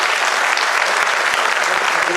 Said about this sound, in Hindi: मैं चाहता हूं कि इनके लिए आप अगर जोरदार तालियां बजाएं